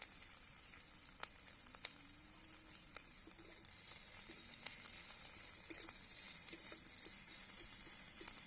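Chopped onion, green chilli and grated ginger fry in a pan with a faint, steady sizzle and occasional soft spatula taps.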